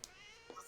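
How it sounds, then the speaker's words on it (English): A pet cat named Jasmine gives a single short, faint meow in a quiet indoor room. "That was my cat Jasmine over there."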